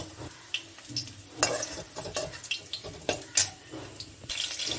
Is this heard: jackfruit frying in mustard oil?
yes